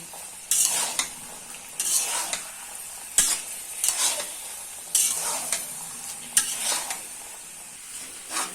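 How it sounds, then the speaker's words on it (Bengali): Chickpeas frying in an iron wok are stirred in repeated scraping strokes, each stroke a sharp metallic scrape over a light sizzle, arriving in an irregular rhythm close by. "আধা ঘন্টা পার হবে, আমি এটা জাস্ট নেড়েই যাচ্ছি।"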